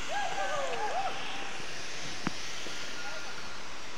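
The Tuisoi Waterfall drops from a great height onto rocks below, throwing up mist, in a constant loud rushing roar; a voice warbles briefly over it near the start.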